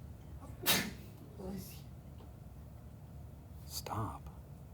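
Two sharp sneezes burst out about three seconds apart over a quiet, hissy background, each a sudden loud exhale.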